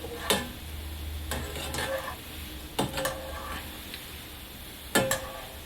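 Gulab jamun balls fry in hot oil and are slowly nudged around, a soft low sizzle under a few faint clicks and scrapes from the utensil at scattered moments.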